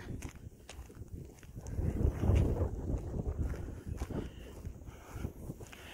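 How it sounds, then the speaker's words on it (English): Wind gusting by a lake in the off-season, rumbling and buffeting the microphone in uneven surges, with faint footsteps under it. "the winds are blowing"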